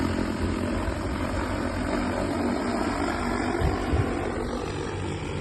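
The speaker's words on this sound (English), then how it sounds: "The drone takes off again after refilling the water. And we start the work." A steady, droning propeller buzz from a flying JT-series agricultural sprayer drone hums continuously at moderate distance, with no voices.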